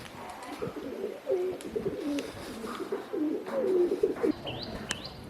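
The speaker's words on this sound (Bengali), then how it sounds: "ওই আমাদের কবুতর" Pigeons coo in soft, repeated rolling phrases close by, with a few higher chirps and light ambient noise around them.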